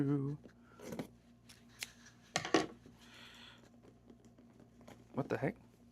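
Scissors snip at the packaging of an AMD CPU box in several short, crisp clips and rustles spaced over a few seconds, close up, between bits of speech.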